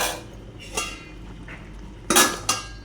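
A lid lifted off a pot of cauliflower curry with fried lentil dumplings, giving a couple of sharp metallic clinks and clatters, close and fairly loud, with quieter rattles before them.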